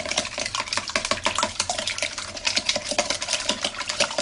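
Crêpe batter being whisked briskly in a bowl, a steady run of fast, close metallic clicks and scrapes with no voices.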